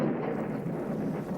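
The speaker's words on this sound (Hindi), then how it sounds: "और फिर अचानक बादल गरजा और बारिश शुरू हो गई।" A low, steady rumble of thunder rolls under a constant wash of rain, heard close and moderately loud with no voices.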